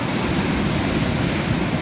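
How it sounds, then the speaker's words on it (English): Ocean surf washes continuously onto Kendall's Beach on the south coast of New South Wales, a loud, steady roar of breaking waves mixed with wind buffeting the microphone; no talking. "Some good waves coming in there, eh?"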